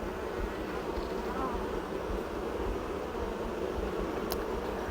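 Honey bees buzzing inside an open hive, a dense steady hum that fills the whole stretch at close range, with no voices and no pauses.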